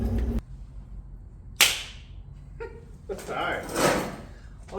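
Shelby GT350R race car door handled with a sharp latch click and metallic clunk, then sliding and rustling sounds as it opens, close and moderately loud.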